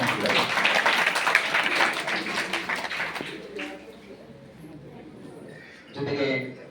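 Audience applause at an honouring ceremony, a dense crackle of many hands clapping for a few seconds that fades out, followed by someone speaking over a quiet hall.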